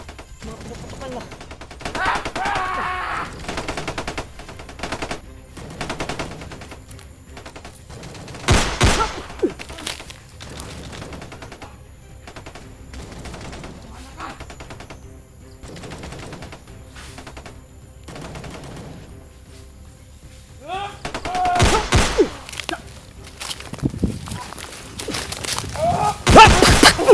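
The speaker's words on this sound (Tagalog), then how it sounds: "Mga putok pa sa kabilang bundok, mga ka-idol." Distant gunfire rings out in a shooting video game, scattered bursts and single shots echoing across a far hillside, some louder cracks near the end, with occasional voice beneath.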